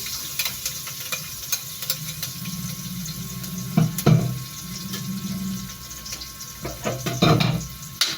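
Garlic and onion frying in a pan, a soft continuous sizzle with occasional stirring clatter and a few louder bursts, close and moderately quiet.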